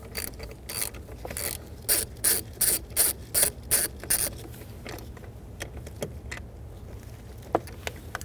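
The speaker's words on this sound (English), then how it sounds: "using a 7mm socket and an extension with a 1/4-inch ratchet, you're going to loosen up top bolt" A 1/4-inch ratchet with a 7mm socket on an extension loosening a bolt on a 2000-2007 Ford Taurus, a run of rapid, close clicking bursts followed by sparser single clicks.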